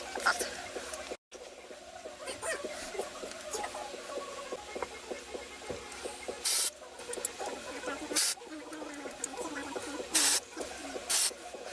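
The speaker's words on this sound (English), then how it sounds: "so I'm gonna try out the dry shampoo." Dry shampoo is sprayed onto greasy hair in four short, sharp hissing bursts spaced a second or two apart, each standing out clearly above a quiet background of faint rustling.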